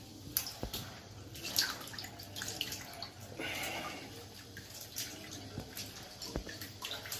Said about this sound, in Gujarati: આજે આપણે કરમદા લેવા છે અને આપણે સારી રીતે એને ધોઈ લઈએ